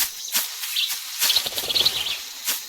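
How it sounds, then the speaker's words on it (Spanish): A crow or magpie in Metal Gear Solid 3 gives a few raspy, scratchy calls in short bursts, fairly close and clear against a quiet jungle background. "una urraca. No, eso era, parecía un cuervo"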